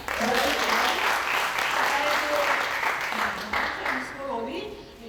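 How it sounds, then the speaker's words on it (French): Sustained audience applause fills a women's slam poetry competition hall at a Mauritian cultural centre, steady and dense for several seconds, with scattered voices and cheers rising over the clapping before it begins to taper near the end. "applaudissez-la"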